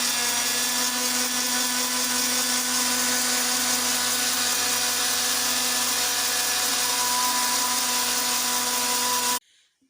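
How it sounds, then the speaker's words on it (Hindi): A blender grinding homemade mayonnaise runs at a steady high-pitched whine for about nine seconds, loud and close, then cuts off abruptly. "अब हम ग्राइंडर चलाते हैं।"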